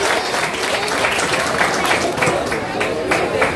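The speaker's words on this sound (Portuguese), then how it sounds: "Vamos aplaudir o Genésio, tá? E o Alex." An audience at a fandango festival on Ilha dos Valadares claps in a dense, sustained burst of applause, close and lively throughout.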